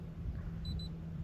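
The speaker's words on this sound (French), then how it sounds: "On a des petits bips à intervalles réguliers." Two short, faint electronic beeps in quick succession from an OBD diagnostic interface reading a car's VIN sound over a low steady hum.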